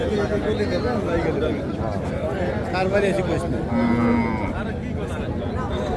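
Cows and calves mooing at Hazratpur cattle market near Dhaka, with several loud, drawn-out lows rising over a dense crowd of chatter throughout.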